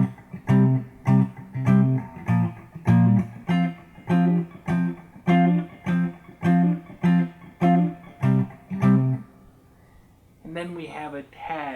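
An electric guitar plays the tag ending of a song: strummed chords land in a steady, even rhythm, half a bar each, up close and alone, before a voice briefly begins talking at the very end.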